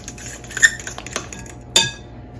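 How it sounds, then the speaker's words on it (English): A spoon stirs old-fashioned oats with vanilla protein shake in a bowl, a few close, bright clinks and scrapes against the dish, ending in one sharper knock, with no talking. "So I'm gonna go ahead and give this a quick little stir as it stands, just to get that incorporated."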